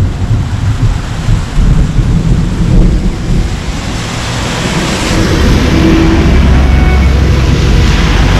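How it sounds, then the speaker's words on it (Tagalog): Heavy rain pours in the Cordillera mountains as thunder rumbles low and long, a loud, continuous wash that swells further toward the end, with no voices. "Grabe yung kulog."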